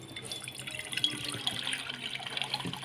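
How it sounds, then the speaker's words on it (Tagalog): Mineral water pours steadily into a container, a continuous splashing trickle heard close up without talk. "Lagyan natin ng tubig dito"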